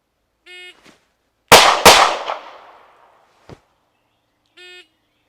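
Two loud, sharp shots from a Canik Mete MC9 pistol are fired in quick succession, with a ringing decay after them. A shot timer beeps before and after the pair, and no voices are heard.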